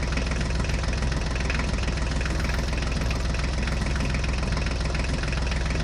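A tractor engine runs as the tractor drives, a loud, steady, rough mechanical chugging with a knocking throb that continues unbroken, with no talk over it.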